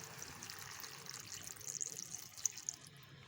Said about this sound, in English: lastly I am adding some water.